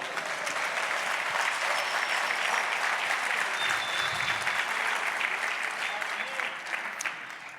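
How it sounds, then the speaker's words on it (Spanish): A church congregation breaks into sustained applause for the Lord, thick continuous clapping from a large crowd filling the room, with faint cheers mixed in and a slight fade near the end. "Dale un aplauso al Señor."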